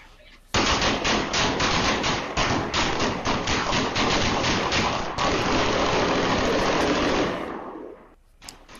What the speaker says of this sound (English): The sounds and sights of rapid gunfire pierced the night silence Saturday on